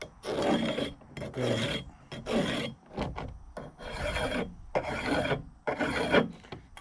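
A file rasps burrs off a chainsaw part in six or seven separate bursts of strokes with short pauses between them, each stroke loud and close. One brief word is spoken.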